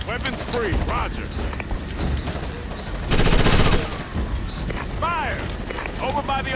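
Firefight in the tactical shooter Ghost Recon Advanced Warfighter: steady rattling bursts of rifle fire with a dense peak midway, mixed with mechanical clatter and squad radio voices calling out.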